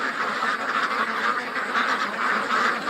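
Ducks in a pen on a homestead quack continuously as a flock, a dense overlapping chorus of nasal calls close by.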